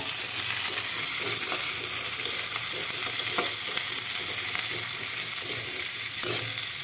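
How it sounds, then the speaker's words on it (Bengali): Raw onion sizzles and crackles steadily in hot oil for chow mein, a dense, continuous fry with occasional stirring scrapes, close and loud throughout with no voices. "তেল গরম হয়ে গেছে, আমি এখন দিয়ে দিলাম কাঁচা পেঁয়াজটা।"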